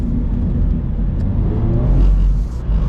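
A 2022 Subaru BRZ engine under throttle while drifting, a steady loud close rumble of car motor and tyres that swells slightly toward the end, with no voices.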